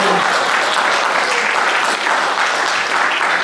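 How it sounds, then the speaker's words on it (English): A film panel audience claps loudly and densely, a steady wash of applause held for a few seconds with no break. "You can applaud."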